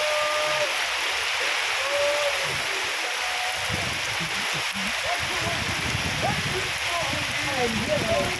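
Rain falls outdoors in a steady, dense hiss throughout, with faint voices and brief chirping sounds scattered underneath.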